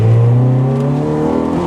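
A Honda DC2 Integra Type R with a naturally aspirated 1.8-litre engine making 182 kW revs hard nearby, its loud, smooth, harmonic engine note climbing steadily in pitch, with no talk over it.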